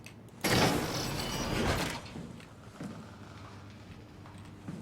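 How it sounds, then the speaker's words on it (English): A magnetic sliding door opens in the SOMA video game, a loud close hydraulic whoosh lasting about a second and a half, then easing into a quieter mechanical hum and faint clunks. "Magnetic door."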